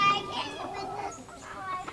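Laying hens clucking on a pasture farm, with soft, intermittent clucks and murmurs close by, fairly quiet, and a faint voice in the background.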